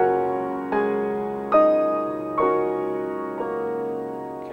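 Piano playing a measure of Debussy's Clair de lune with the sustain pedal held throughout, giving a blended, ringing sound: four soft chord onsets about a second apart, each swelling over the lingering previous notes, alone with no voices.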